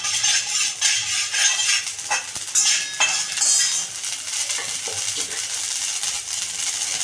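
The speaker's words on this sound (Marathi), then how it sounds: "थोडस आपलं लालसर भाजून घ्यायचं." Ingredients dry-roasting in a pan until reddish for masvadi, with steady scraping and stirring, faint sizzle and occasional utensil clinks against the pan throughout.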